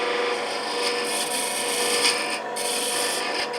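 A parting tool scrapes the edge of a cherry burl box spinning on a wood lathe, giving a steady, close, dry rasping hiss for a few seconds.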